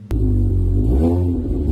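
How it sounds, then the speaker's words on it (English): Car engine revving close by with a deep rumbling roar that climbs and falls in pitch, starting sharply after a click and holding loud for under two seconds. "That's a nice sounding car"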